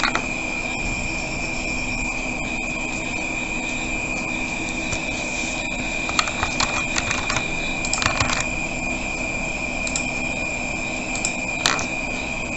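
Keys on a computer keyboard tap out a message for a Christmas banner in Photoshop, with sparse, scattered clicks over a steady background hum and no talk.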